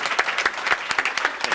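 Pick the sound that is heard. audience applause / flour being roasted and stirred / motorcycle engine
audience applause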